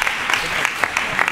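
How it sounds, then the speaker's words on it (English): A studio audience claps for an intern at a live tech show, a dense steady round of applause close and full, with no voices over it. "Everybody give a round of applause to our intern, Greggy."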